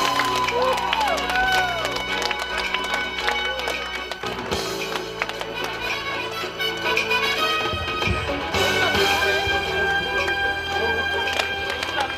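Audience applause at a Suzak community cultural celebration in 2019, a continuous crowd clapping that lasts throughout, mixed with voices and some background music.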